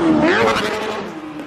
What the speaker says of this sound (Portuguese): Tá vindo acelerando, meu bicho, hein?